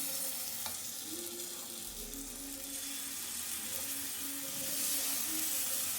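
Rice batter spoon-fed into the oiled cups of a paniyaram pan hisses in a steady, close sizzle, with a soft steamy crackle that swells slightly toward the end; no one speaks.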